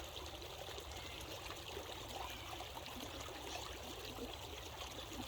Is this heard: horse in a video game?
no